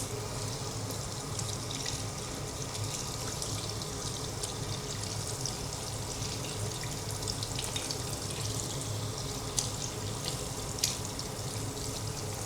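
Tap water runs steadily over hands while they are rinsed of soap at a sink during a healthcare handwashing routine, a continuous close splashing stream with no talk.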